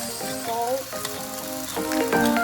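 Shrimp sizzling steadily in a hot pan for Filipino home cooking, a constant close frying hiss with a few brief tonal sounds rising over it.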